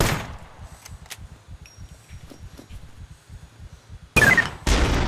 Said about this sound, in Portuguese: dei tiro pra caraca, chamei atenção